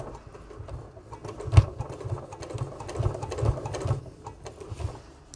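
A sewing machine stitches fabric for a tool wallet bag, its motor running in a steady, rhythmic whir of short bursts and pauses at close range, with no talking.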